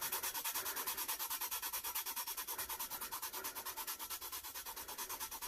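Fast, even rubbing of glitter on a tumbler, a rhythmic scratchy swishing that repeats about ten times a second, close and steady throughout, with no voices.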